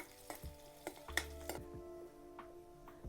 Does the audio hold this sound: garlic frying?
yes